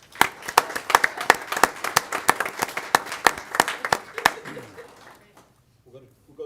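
Applause at a school board of trustees meeting: a few people clapping in a brisk, regular rhythm, close and clear, before tapering off into near silence with faint talk.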